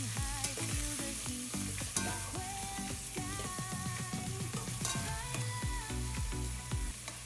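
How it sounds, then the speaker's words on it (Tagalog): Dried fish stewing in coconut milk with vegetables as the pot is stirred, a dense bubbling sizzle with tapping, ratchety scrapes of a utensil, close and steady throughout, with no one speaking. "buksan na natin at haluin mga bikers"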